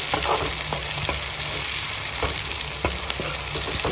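Onions, green chilies and tomatoes stirred in a hot frying pan for rice Maggi, a steady close sizzle broken by several sharp scrapes and taps of the spoon, with no talking.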